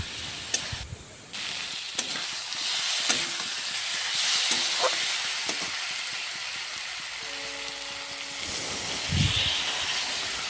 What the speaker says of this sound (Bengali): মরিচের গুঁড়ো দেওয়ার পরে এটাকে জল দিয়ে একটু সামান্য কষিয়ে নেব।